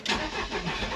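A Mercedes Sprinter van's engine cranks and catches, settling into a steady, close mid-pitched running note with no talk.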